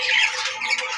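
A newly paired couple of lovebirds squawk up close, one harsh continuous scratchy burst lasting about a second.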